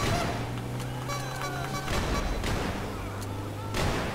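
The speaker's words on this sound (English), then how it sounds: "These guys are shooting with the heavy revolver." In a GTA 5 PC bank heist, police fire heavy revolvers in scattered sharp gunshots over a constant noisy game backdrop with tonal sirens or sounds.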